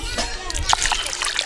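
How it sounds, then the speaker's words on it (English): Sweet potatoes washed by hand in a basin of water in an African village, with splashing and sloshing close by and voices talking over it. "at this point, I'm going to wash my sweet potatoes."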